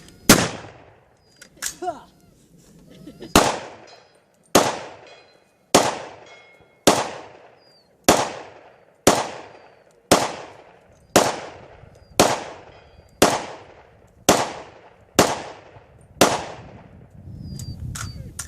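A rapid string of about a dozen loud, close gunshots fires cast lead bullets from Leatherhead Bullets and Missouri Bullet Company during a shooting test, each sharp crack spaced roughly a second apart with brief ringing decay.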